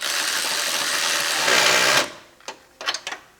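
A power tool drives and tightens starter bolts on a 2014 Dodge Journey 3.6, whirring loudly and steadily for about two seconds before stopping, followed by a few short sharp bursts.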